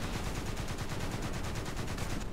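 Rapid, continuous automatic cannon fire from a Gepard anti-aircraft gun shooting at a T-54 tank in War Thunder, loud, close and dense, with bursts rattling in an even rhythm throughout.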